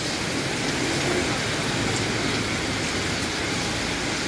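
Steady rainy-season rain pours down in Olongapo City, Philippines, a constant broadband hiss of drops hitting surfaces, fairly loud and unbroken throughout.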